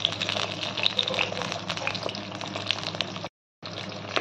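Sliced brinjal frying in hot oil in a pan over a gas flame, a steady close sizzle and crackle with occasional sharp spits, broken by a brief silence before the hiss resumes.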